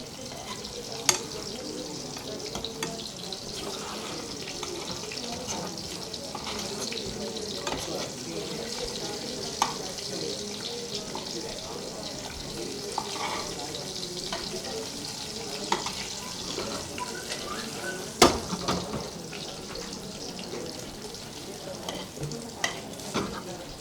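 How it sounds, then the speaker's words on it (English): Steady sizzling of taro frying crisp in a hot pan, continuous and close, with occasional stirring clicks and scrapes throughout. "we are frying and making it crisp"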